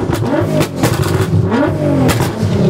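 A car engine revs loudly and close by in repeated rising bursts, each climbing sharply and dropping back, with a throaty, clattering edge and no talking over it.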